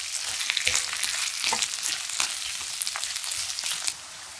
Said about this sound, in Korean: 1분 정도 볶은 후 떡국떡을 건져서 넣고 골고루 저어 버터와 베이컨으로 코팅해주고